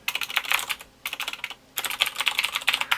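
Rapid clicking of computer keyboard keys in three close, bright bursts separated by brief pauses, as shortcut keys are pressed while working in a spreadsheet; no talking.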